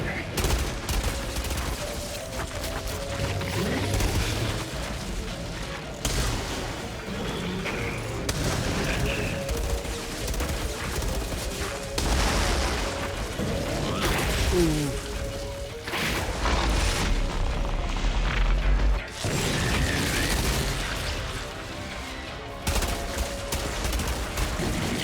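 Gunfire in the sci-fi shooter Outriders, repeated loud bursts and volleys of shots over about twenty-five seconds, layered with game effects and occasional talk.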